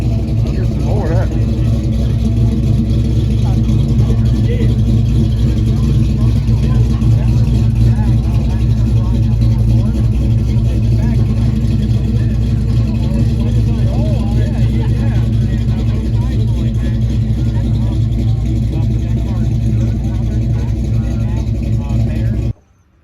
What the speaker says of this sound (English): That big block Mopar sounds great.